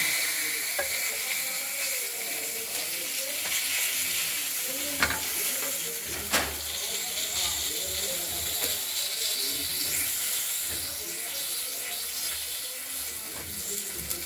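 Bay leaf and black cumin seeds crackle and sizzle in hot oil in a pan for fish curry, a steady bright hiss with scattered small pops and a couple of sharper clicks, close and continuous, no talking.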